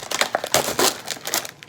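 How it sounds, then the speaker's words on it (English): A plastic label peeled off a pop bottle gives a run of dense crinkling and tearing rustles, close and fairly loud, with no voice over it. "And then you're gonna take off the label"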